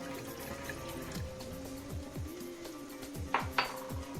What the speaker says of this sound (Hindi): इसमें हम डालेंगे थोड़ा सा पानी।